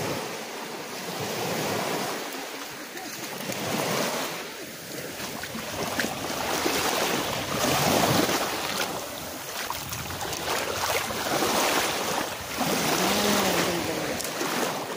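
Ocean waves surge and wash continuously at a beach resort in Liloan, Southern Leyte, rising and falling in loudness, with wind buffeting the microphone and no speech.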